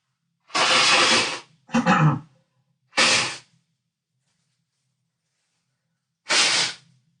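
Several forceful nose blows in short bursts in a cellar, three close together and one more after a pause, with silence between.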